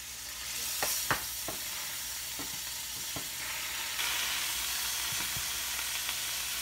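Butter sizzling in a frying pan alongside salmon patties, a continuous bright hiss with a few clicks and taps of a utensil against the pan, close and moderately quiet, with no speech.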